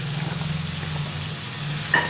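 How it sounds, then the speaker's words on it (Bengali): Potato and eggplant drop into a spice paste of onion and green chili frying in oil, giving a close, steady sizzle with a stirring scrape near the end and no talk. "আলু আর বেগুনটা দিয়ে দিচ্ছি"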